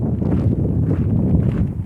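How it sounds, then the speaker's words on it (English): Steady low wind buffets the microphone on a hiking trail at Pulpit Rock, Colorado Springs, a dense rumbling roar with no other clear sounds. "nice and windy here"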